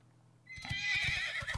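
A horse neighs for the Armored Warhorse card in Hearthstone, a loud whinny with clattering hoof-like hits rising out of near silence and running to the end of the clip.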